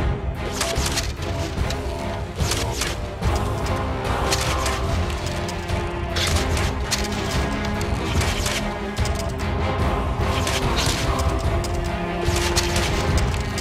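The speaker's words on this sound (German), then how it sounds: "Das sind die Granatenpfeile übrigens." Grenade arrows exploding in the video game Enclave: a dense, continuous barrage of booms, cracks and crashing impacts over game effects, loud and sustained with repeated sharp bursts.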